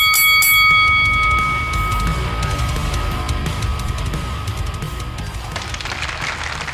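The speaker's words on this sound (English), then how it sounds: "Ring the bell." A wrestling ring bell is struck once at the start, giving a bright metallic clang that rings on with a long, fading tone under a loud, full background.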